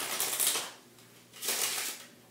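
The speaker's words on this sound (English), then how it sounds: "And you just shuffle the deck" A deck of playing cards is riffle-shuffled by hand, giving two quick, crisp fluttering bursts close by, separated by a short pause, with no voices.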